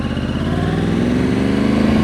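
Motorcycle ridden on cold tires and without ABS, its engine droning loud and close with a rough, pulsing mid-range hum and a slight rise in pitch, no speech over it.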